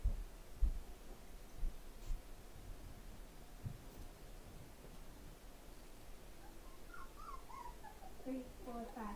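Newborn black puppies from a litter of ten whimpering faintly, thin high squeaky whines clustering toward the end over soft handling noise and light background hiss, with a few low thumps near the start.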